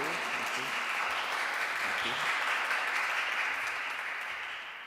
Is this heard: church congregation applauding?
yes